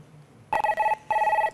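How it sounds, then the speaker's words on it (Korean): Telephone ringback tone while a call connects, two short bursts of electronic ringing separated by a brief pause, clear and close with no talk. "마지막으로 전화 연결해보도록 하겠습니다."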